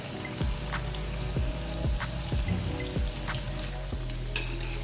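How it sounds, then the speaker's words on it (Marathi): Veg Manchurian balls frying in hot oil in a kadhai, a steady crackling sizzle with a few sharp plops and splashes as pieces drop in, close and fairly loud. "आता आपण हे बॉल्स व्यवस्थित सगळ्या बाजूनी तळून घ्यायचे"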